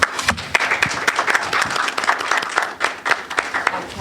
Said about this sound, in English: I want to give them a shout out and an applause.